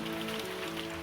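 Hail falls in a dense, steady patter, a continuous hissing wash of small impacts with no pauses and no voices.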